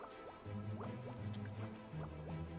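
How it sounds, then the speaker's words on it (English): The umbrella flying mount in Final Fantasy XIV makes soft, repeated bubbly blips and pops as it glides along. They play faintly over a steady musical tone. "You can even hear the bubbles,"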